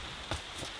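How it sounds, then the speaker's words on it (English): Steady rain patters on a surface in a brief, continuous hiss, with a few slightly louder drops breaking through. "Rain."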